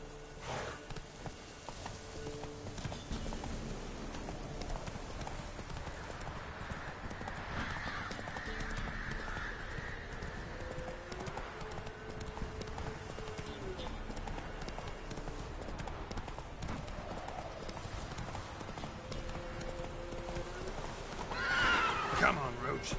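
Roach, a horse in The Witcher video game, gallops with steady clip-clop hoofbeats and gives a neigh toward the end, over quiet in-game ambience, with a voice speaking briefly.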